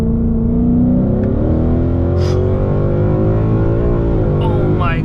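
An E85-tuned Ford Mustang GT with a Gen 3 Coyote V8 pulls hard under full throttle, its deep engine note rising steadily from inside the cabin, loud and continuous.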